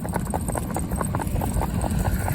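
Small miniature horse hooves clip-clopping at a steady walking rhythm over hard ground, close and fairly even, with a constant low background rumble and no talk.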